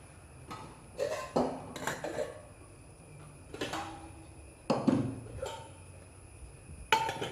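A metal lid clatters onto a cooking pot in a kitchen, several sharp clanks and scrapes spaced out with quiet gaps between, close and fairly loud against a faint background hum.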